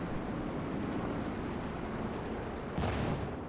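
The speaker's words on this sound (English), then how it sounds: "Another good Stuka barrage." Stuka dive-bomber barrage in a Company of Heroes 2 match: a continuous dense rumble of blasts and gunfire, with a louder, sharper burst of explosions near the end.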